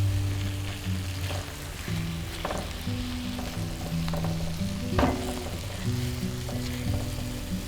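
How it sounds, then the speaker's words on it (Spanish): Chicken pieces, browned earlier, are stirred into a sizzling seasoned sauce base in a pan, giving a steady frying hiss with scattered utensil clinks and scraping; no talking. "Ahora vamos a incorporar al aderezo las piezas de pollo que habíamos dorado y reservado al"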